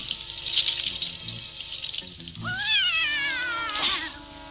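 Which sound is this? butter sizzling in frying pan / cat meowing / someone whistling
cat meowing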